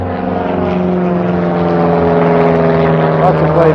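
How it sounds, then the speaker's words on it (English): A loud, steady droning airplane engine with a low propeller hum, close overhead and sustained throughout, at a car meet. "That's a plane being quite loud."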